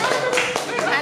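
A classroom group clapping hands together in a short burst, with voices talking over the clapping.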